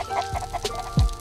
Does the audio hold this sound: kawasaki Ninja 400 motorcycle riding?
no